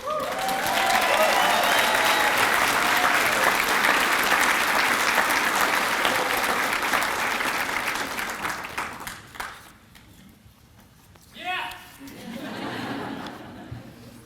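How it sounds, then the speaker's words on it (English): A banquet audience at a Citizen of the Year event applauds loudly and cheers for an award nominee, with some laughter and chatter mixed in. The applause tapers off toward the end and leaves scattered voices and a few claps. "You can cheer on your friends."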